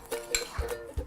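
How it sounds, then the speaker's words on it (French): A spoon clinks and scrapes against a bowl while mixing a thick orange chalk paste, a few light taps and knocks close up and fairly quiet, no voices. "J'espère que je ne fais pas trop de bruit avec ma cuillère dans le micro"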